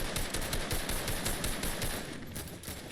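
Gunfire in the battle royale game Fortnite Reload, rapid, dense automatic bursts rattling continuously at close range for a few seconds with no voices.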